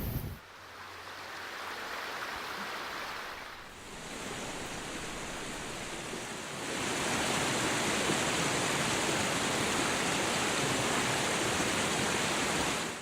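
Dau Dang Waterfall in northern Vietnam, reached by boat past Puong Cave, gives a steady broadband roar of rushing water that grows fuller and louder partway through, with no voices.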